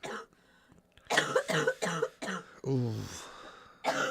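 A man coughs several times in a row, harsh close bursts that end in a rasping throat clear, with a brief exclamation at the start.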